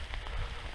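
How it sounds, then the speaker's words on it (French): Rain falling steadily on a mountain trek through jungle in Nepal, a dense close patter of drops on surfaces, alone without voices. "Bon là il pleut pas mal."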